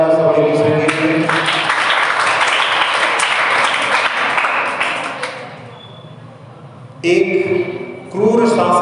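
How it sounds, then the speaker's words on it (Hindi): Children clapping for each other during a lesson, a dense burst of applause lasting several seconds that fades out, with a voice talking before and after. "सब लोगों ने हाथ उठा दी, बहुत अच्छी बात है, ताली बजा रहे सब एक दूसरे के लिए।"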